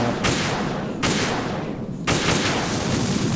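Bursts of heavy gunfire in Metal Gear Solid 2, loud and close, coming in three rapid volleys with brief gaps between them and a noisy rumble underneath.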